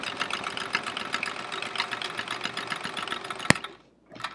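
A sewing machine free motion quilts feathers on a chevron quilt, running in a fast, steady rattling hum close by before a sharp click and a stop, then a brief restart.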